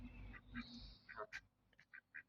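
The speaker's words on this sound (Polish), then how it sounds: "To są fajne kaczki." Several short Muscovy duck quacks in a loose series, fairly close, with a low murmur of background noise underneath.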